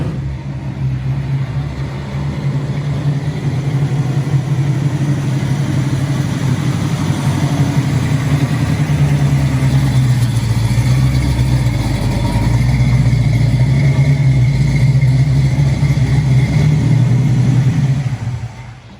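Classic car with a 5-speed gearbox cruising at highway speed in Dallas, a steady loud engine drone and road rumble with no talk.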